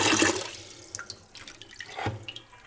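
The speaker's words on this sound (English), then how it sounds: "Should I add a bit more water in there just to make it more realistic?" Water is poured over a rugged Oukitel RT8 tablet, a brief close splash at the start followed by scattered drips and small splashes, with a second splash near the end.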